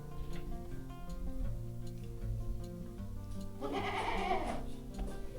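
Goats bleat on a village goat farm near Pune, with wavering calls rising over a steady tonal background, loudest in a burst near the end.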